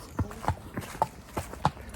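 Horse hooves clop steadily while riding through a forest, with about six evenly spaced, close hoof strikes of a walking gait and no talk over them.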